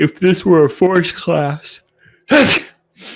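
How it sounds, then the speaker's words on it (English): Someone talking lets out a yawn-like sneeze after a stretch of speech, a single loud breathy burst near the microphone followed by a brief quieter sound. "excuse me, that was a yawn sneeze"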